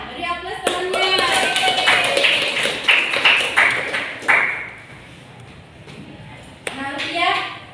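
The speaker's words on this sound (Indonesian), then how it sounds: "Beri aplaus temannya." Classmates clap for a fellow student in a classroom, a burst of many hands that swells for several seconds and then thins into a few scattered claps, with children's voices chattering over it.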